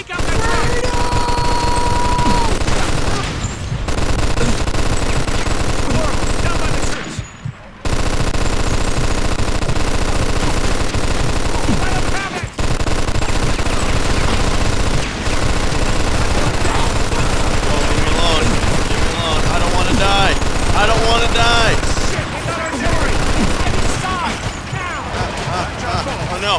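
An MG-42 machine gun fires in the video game Mafia 2, a loud, nearly continuous roaring burst of rapid shots with only a few short breaks, mixed with battle noise and occasional talk.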